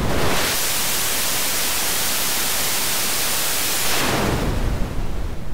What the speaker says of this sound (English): pretty close to white noise there.